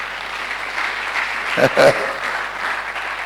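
A church congregation applauding in a continuous wash of clapping that swells briefly near the middle, with voices mixed in beneath it.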